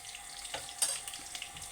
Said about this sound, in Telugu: ఇలా ఉల్లిగడ్డ అయితే ఫ్రై అయిపోయింది. ఇలా ఫ్రై చేసుకోవాలి.